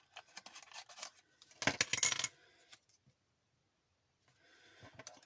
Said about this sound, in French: J'essaie déjà de découper grossièrement.